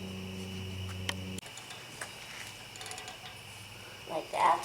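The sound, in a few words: tightening the bolts on the back of a brake caliper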